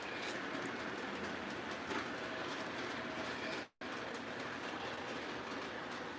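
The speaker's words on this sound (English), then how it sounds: "Let's get our Conrail going again here on the inner loop." A model Conrail train running on an inner loop layout, its steady rolling clatter continuous and fairly quiet, broken by one brief dropout, with no talking.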